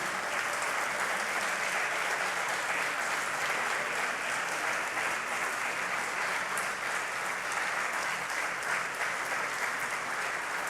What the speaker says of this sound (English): give them a very high round of applause